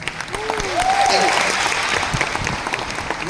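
An audience at a business meeting applauds in a dense, steady wash of clapping that holds for several seconds, with a voice speaking over it and a brief whistle-like tone near the start.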